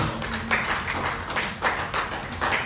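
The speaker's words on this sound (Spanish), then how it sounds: "Un fuerte aplauso al Señor, hermano." Applause rises from a church congregation, a dense run of hand claps that swells in a few waves, fairly close and steady, with no one speaking over it.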